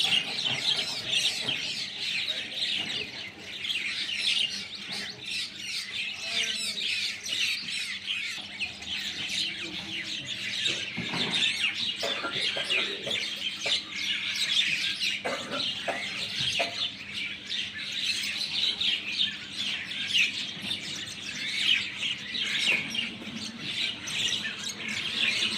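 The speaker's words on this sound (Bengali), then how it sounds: "এই শালিক পাখি, বিভিন্ন পাখি দেখেন এখানে।" Mynas and other wild birds chatter and chirp continuously while being fed outdoors in Ramganj, Lakshmipur, a busy layer of shrill calls at moderate distance over low background noise.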